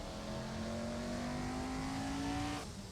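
Classic car engine accelerating, a steady rising drone held for a few seconds before dropping off abruptly, moderately loud with no talk over it.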